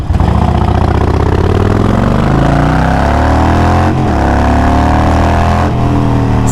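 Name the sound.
modified Harley-Davidson motorcycle engine running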